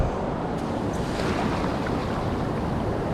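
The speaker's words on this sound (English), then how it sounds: "It's very loud and windy today" Strong wind and ocean surf roar on a beach, a loud, continuous rush with heavy wind buffeting the microphone and no voices.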